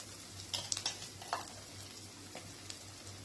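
Onions frying in a pan for chana paneer, a soft continuous sizzle with a few light scraping taps from stirring, quiet and close with no talk.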